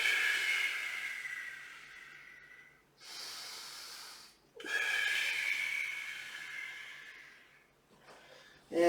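Slow, deep breaths during a Pilates exercise with a Swiss ball: a long airy inhale, a short pause, then another long breath that fades out, close to the microphone with no talking.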